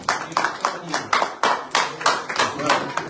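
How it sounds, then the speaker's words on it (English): An audience at a community town hall in the DC/Baltimore area claps in a rhythmic, pulsing round of applause, each swell of hands rising and falling in a steady beat, fairly loud and close, with voices mixed in. "Round of applause."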